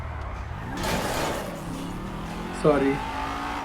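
A car engine hums and revs while driving in the video game GTA 5, with a brief louder surge and a tire squeal. A person talks over the game sound.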